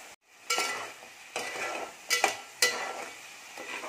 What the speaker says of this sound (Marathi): मसाला चांगला आपण भाजून घ्यायचा आहे।